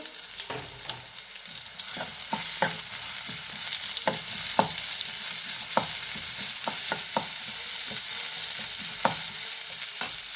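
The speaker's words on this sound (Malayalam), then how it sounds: "ഇനി അതിലേക്ക് നമ്മൾ നേരത്തെ കട്ട് ചെയ്ത് വെച്ച മാങ്ങഞ്ചി ചേർത്ത് കൊടുക്കുകയാണ്" Chopped mango ginger fries in hot oil with ginger and garlic for a pickle, giving a continuous crackling sizzle punctuated by repeated sharp scrapes and taps of a spoon stirring the pan; no talking.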